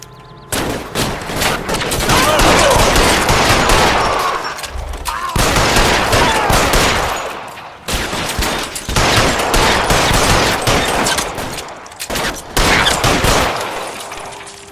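Dense sustained gunfire in the video game L.A. Noire during a shootout, loud continuous bursts of rapid shots broken by brief pauses, with faint voices underneath.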